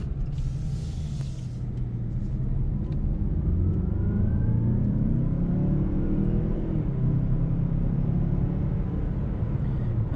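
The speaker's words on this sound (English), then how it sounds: "I'm going to shut up and accelerate." A 2019 Mazda CX-9 Sport accelerating from inside the cabin, its engine a steady low rumble rising smoothly in pitch as speed builds, with no talk.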